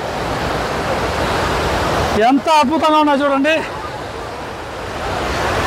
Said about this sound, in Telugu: ఇది కదా జలపాతాలు అంటే.